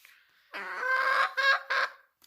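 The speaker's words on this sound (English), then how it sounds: "a lovely little hen. But she can be quite noisy when she wants to be" A hen clucks loudly and close, one longer squawking call followed by two short clucks, in an otherwise quiet setting.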